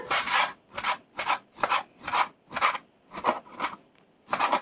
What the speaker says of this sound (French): Découpe en fines lamelles.